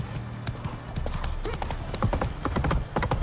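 A horse gallops in The Witcher 3 with steady rapid hoofbeats, close and loud over a low rumbling game soundtrack. No one speaks.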